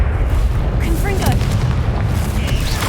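Confringo spell explosions in Hogwarts Legacy, deep booming blasts rumbling continuously with battle effects and voices mixed in.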